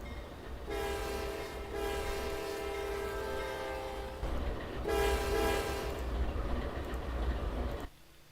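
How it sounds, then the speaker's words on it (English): Long sustained blasts of the Railmods AC44 locomotive horn in the Trainz game, loud and steady over a rumbling train, with a brief break then a second extended blast before it cuts off. "Did the horn come with the Railmods AC44?"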